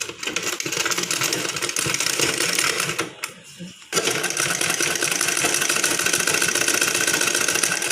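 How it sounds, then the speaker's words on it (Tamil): A sewing machine stitches a golden border onto a round-neck blouse, a loud, continuous rapid whirring clatter that stops for about a second midway, then carries on. "ப்ளவுஸ் மேலே வச்சு அப்படியே தையல் போடணும்."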